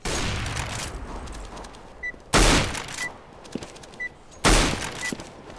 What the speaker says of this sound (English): Firing randomly.